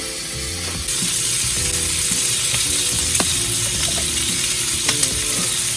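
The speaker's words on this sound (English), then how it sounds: "I'm going to go ahead and put the lid on this so it can sweat a little bit." Sausage and vegetables for a southwest rice bowl fry in a covered pan, a loud, constant close sizzle that jumps up after a brief opening, dotted with faint clicks and scrapes.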